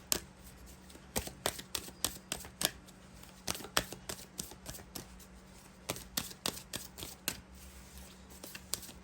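Tarot cards being shuffled and drawn from a deck, heard up close as quiet, crisp riffles and papery snaps in irregular bursts, with no speech.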